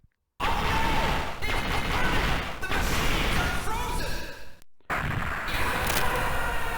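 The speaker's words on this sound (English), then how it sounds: "I don't think safety equipment is gonna save him from that explosion" In a video game, explosions and crashing impacts hit in a dense, loud barrage, broken by two brief silent cuts, with voices talking over the chaos.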